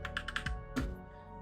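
Keys clatter on a computer keyboard as code is typed for a React and NodeJS web page, a short quick burst of close, crisp clicks followed by a pause.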